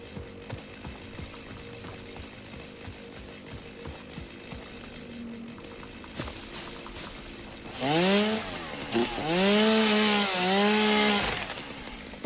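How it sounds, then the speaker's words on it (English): A chainsaw in the factory-building game Satisfactory revs up partway through, loud, rising and falling whines in repeated bursts that cut through quieter mechanical clatter before it. "put my chainsaw back on."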